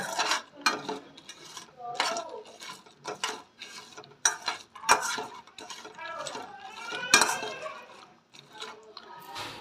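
Dried fish (nethallu) being fried and stirred in a metal pan, with irregular scraping and clattering strokes of a utensil against the pan, close and fairly loud, and no talk.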